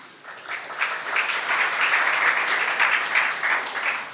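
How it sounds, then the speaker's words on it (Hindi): An audience at a Jain religious discourse breaks into steady applause that swells after a moment and holds evenly, close and fairly loud with no speech over it. "आपके लिए ताली बजा रहे हैं वो"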